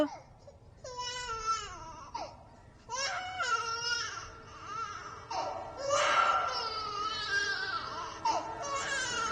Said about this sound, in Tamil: டேய் அங்க ஏதோ அழுக சத்தம் கேக்குதுடா.